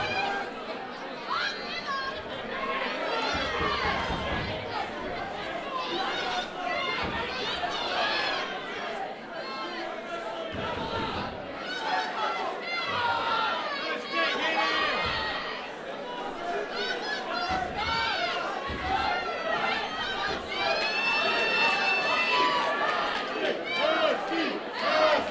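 A dense boxing crowd at a London white-collar fight night keeps up a continuous roar of cheering, shouting and chatter, with scattered louder yells rising throughout.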